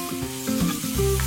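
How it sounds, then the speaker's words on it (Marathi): Finely chopped onion sautéing in oil, a steady close sizzle with faint stirring scrapes and a low hum running underneath, no voices. "हा कांदा थोडा लालसर आपण परतून घेऊया."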